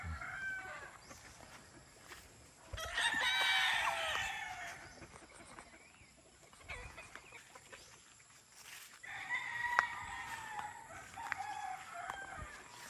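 A six-month-old white kelso gamefowl rooster with yellow legs and beak crows twice, fairly close but quiet, with soft clucking and other farmyard fowl in the background.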